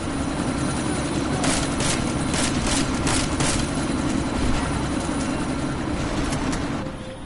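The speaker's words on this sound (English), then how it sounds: "That chopper's about to take off!" Helicopter engine in Deus Ex: Mankind Divided drones loud and steady, its rotor thumping rhythmically throughout before easing slightly at the end, with no talking.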